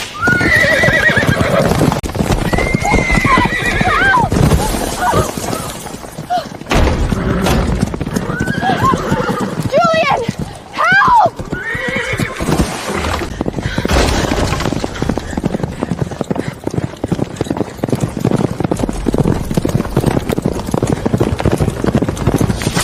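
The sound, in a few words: two horses colliding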